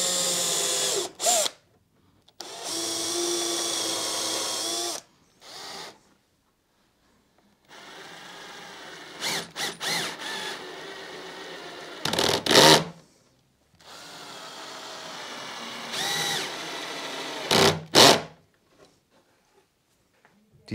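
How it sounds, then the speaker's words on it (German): A power drill with a hinge boring bit whirs through wood in several separate bursts, a steady motor drone each time, with short pauses and a few clunks between runs. "Mit dem Scharnierbohrer bohren wir jetzt hier schön mittig"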